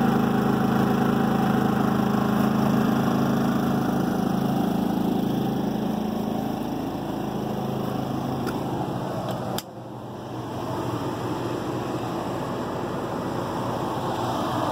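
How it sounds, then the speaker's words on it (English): Predator inverter generator running at a steady, unchanging engine drone with no revving, continuous and fairly loud nearby, with air conditioning on. "Good thing about these inverter generators, they don't rev up and down. Just sit there and run."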